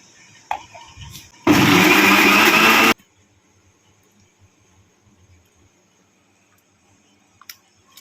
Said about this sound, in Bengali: আর একটু জল দিয়ে ভালো করে বেটে নিচ্ছি